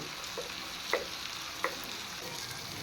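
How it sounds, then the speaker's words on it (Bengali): Ground spice paste goes into a frying pan of vegetables with a quiet continuous sizzle. Two or three brief scrapes of stirring stand out, close but soft. "এবার আমি পেস্ট করে রাখা মশলাটা দিয়ে দেব"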